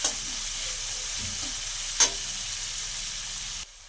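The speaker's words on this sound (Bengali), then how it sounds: "এবার এর মধ্যে দেব আদা রসুনের পেস্ট, আর দেব লঙ্কা গুঁড়ো, হলুদের গুঁড়ো দিয়ে কিছুক্ষণ কষাতে হবে।" Ginger-garlic paste with chilli and turmeric powders fries in hot oil for chilli katla fish, giving a steady close sizzle with faint stirring scrapes and one brief clink near the middle before it cuts off abruptly.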